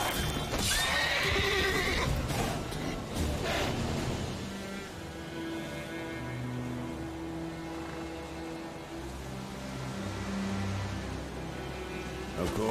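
Horses in The Witcher 3 give repeated loud neighs and whinnies in the opening seconds, then hooves clip-clop steadily beneath a tonal game soundscape that continues to the end.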